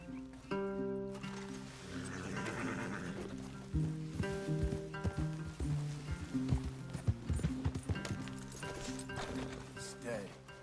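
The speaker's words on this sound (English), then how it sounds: "Leave the horses in the trees there." Horse hooves clip-clop in Red Dead Redemption 2: an uneven run of soft hoof thuds plays under game music, with a few snorts and stirrings and a voice that may be talking.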